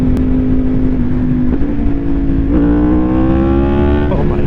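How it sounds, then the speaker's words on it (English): A motorcycle engine drones loudly and close, its pitch climbing steadily as the bike pulls hard under acceleration, with no talk over it. "this bike just pulled"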